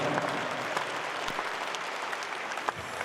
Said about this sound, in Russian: Друзья, ваши аплодисменты!